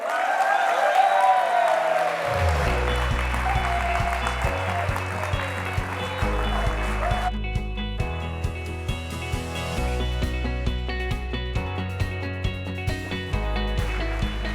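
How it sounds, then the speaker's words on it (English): Audience at the San Antonio Business Hall of Fame ceremony applauds Harvey P. Hartenstine, a loud burst of clapping and cheering that soon gives way to steady band music with a thumping bass beat under the continuing applause. "put your hands together for the one, the only, Mr. Harvey P. Hartenstine"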